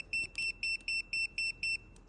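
A grain truck's remote pressure gauge gives an alarm of seven evenly spaced, sharp electronic beeps, clear and alone with nothing else in the background.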